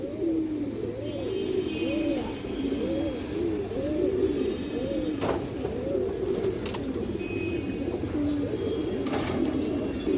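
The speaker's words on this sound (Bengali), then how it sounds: "সিলভার মাদি কৌতার" Silver pigeons cooing steadily, with repeated rolling coos overlapping from several birds nearby, joined by a few brief chirps and faint wing flutters.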